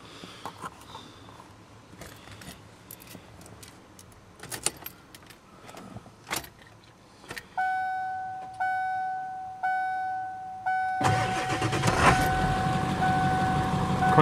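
A truck's engine cranks and catches after some rattling and jingling of keys, starting on a cool day of around 50 degrees and settling into a steady, loud idle under a faint whining tone.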